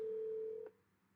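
On an outgoing phone call, one ringback tone plays as a steady electronic hum for well under a second, then cuts off to near silence.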